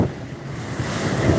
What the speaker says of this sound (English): All I saw was a wall of water coming at me.